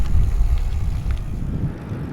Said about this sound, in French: Un petit vent légèrement de face, parce que je vais vers le nord assez souvent.